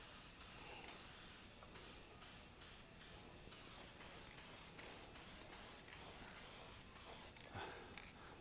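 Steady close hiss of a spray gun laying light coats of dark purplish red paint on a 1964 VW Ghia, broken by frequent short gaps as the trigger is released and pressed again.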